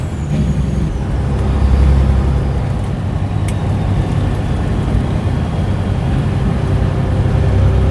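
A pair of trucks passing a truck on a highway near Sweetwater, Tennessee, a loud continuous low rumble and road roar swelling slightly as they go by, with no voices.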